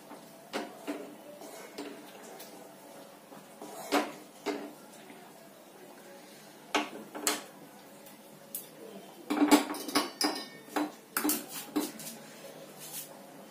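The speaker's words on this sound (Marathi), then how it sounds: "पनीरचे तुकडे करून घेणार आहोत या ठिकाणी आपण." Paneer being cut into pieces for a Paneer Angara gravy, giving sporadic knife taps and clinks on a board or plate, some in quick clusters, close and fairly quiet with no talk.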